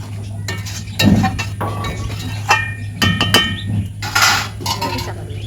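Meat and fried potatoes stirred in a pan, with a run of sharp metallic clinks and scrapes of a utensil against the pan over a low steady hum, close and fairly loud.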